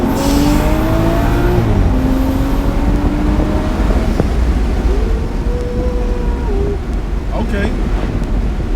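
A tuned BMW with an N55 Stage 2 setup accelerates hard from inside the cabin, its engine droning loudly and rising in pitch, with a couple of upshifts where the note drops before climbing again.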